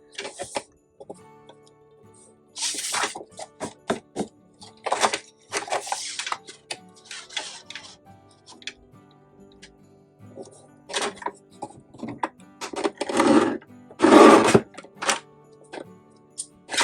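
A paper trimmer repeatedly slices card stock for handmade Christmas cards, producing a series of close, crisp clicks and sliding cuts in irregular bursts, with a louder rasping cut near the end.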